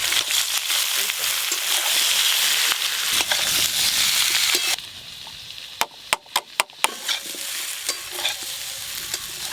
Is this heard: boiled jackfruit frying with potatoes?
yes